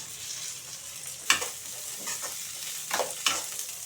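Garlic cloves, coconut pieces and cumin seeds fry in a pan, a soft steady sizzle broken by a few sharper scraping stirs, close and alone without talk.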